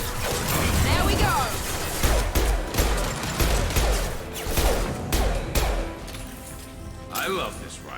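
Rifle fire in the video game Mass Effect 2, with loud bursts of shots, clattering mechanical impacts and crashes that come in dense waves, while a voice talks over the action.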